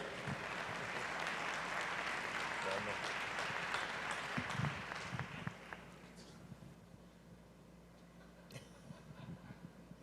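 An audience applauds at a talk between two speakers at Ciudad de las Ideas, a broad roar of clapping that gradually thins and fades, with scattered claps and a voice at the end.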